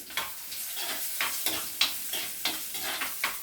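Chopped onion and curry leaves sauté in a pan, giving a soft, steady sizzle broken by regular scraping stirs about every third of a second, close and fairly quiet with no voices.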